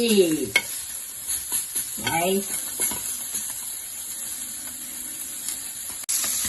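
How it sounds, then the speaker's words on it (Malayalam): Dried kondattam chillies fry in oil, producing a steady close hiss and sizzle with occasional stirring clinks, while a person talks briefly near the start. "ഇതിന്റെ കൂടെ തന്നെ ഞാൻ കൊണ്ടാട്ടം മുളകും പൊരിക്കുന്നത്."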